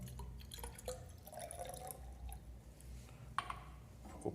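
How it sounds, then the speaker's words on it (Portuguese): Cold water trickles into a second laboratory flask for a colour-mixing experiment with blue dye, a faint, close gurgling pour with soft dripping and splashing, no talking. "a gente vai adicionar a água fria no segundo frasco"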